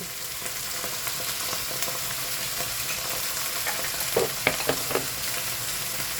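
Bitter gourd seasoned with salt and chicken powder sizzles steadily in a pan while being stirred, with a few sharp utensil clicks toward the end and no voices.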